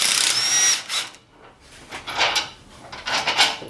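A 15mm socket wrench works loose the C-pillar bolts of a roll cage, sounding as close, harsh bursts of metallic rattling and whirring with brief gaps, plus a thin squeal at the start.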